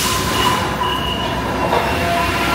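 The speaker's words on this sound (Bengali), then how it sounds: "বেসিক্যালি আমাদের মেট্রো এসে গেছে, ঢুকে পড়ি, এই গেটগুলো ওপেন হবে অ্যান্ড উই ক্যান এন্টার।" A Paris metro train pulls into a station with a steady loud rumble of wheels on rail and a thin high squeal running through it, with no voices.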